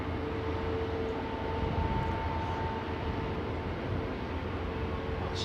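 GE jet engines on an airliner at London Heathrow whirring away in a steady, continuous drone with a thin sustained whine on top, moderately loud and unbroken, with no talking.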